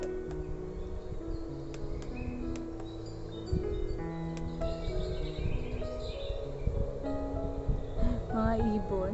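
Feather the Owl diffuser plays recorded birdsong, faint chirps and tweets over a steady hum with low murmuring in the background.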